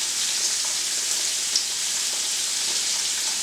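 Meat for plov frying in hot oil, a steady dense sizzle with faint crackles and pops, close and continuous without talk.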